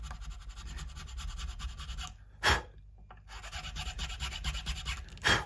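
A file rasps back and forth in the nut slot of a Jackson baritone seven-string guitar, quiet steady scraping strokes close by, with a brief pause and a couple of sharper scrapes.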